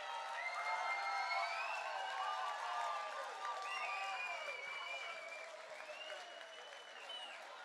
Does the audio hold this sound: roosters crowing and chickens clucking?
no